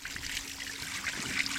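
Water from a garden hose rinses spilled gasoline off a Honda FourTrax ATV motor, giving a steady, close hiss and trickle with a faint splash and no one talking.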